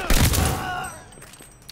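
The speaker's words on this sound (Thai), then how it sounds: "ลูกซองอีกแล้ว" Shotgun fire in the video game Call of Duty Vanguard: a loud close blast at the start with a booming tail that decays over about a second, then fainter background game sounds.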